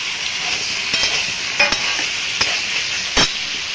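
Chicken pieces are stirred into a sizzling spiced masala, a steady frying hiss broken by several sharp scraping strokes of a spoon against the pan, close and alone.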